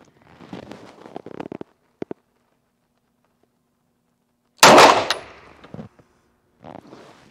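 A Cosaint Arms COS11 handgun fires handloaded ammunition outdoors. One sharp, loud report rings out and decays, followed by scattered clicks and clatter, with smaller handling knocks earlier and no speech.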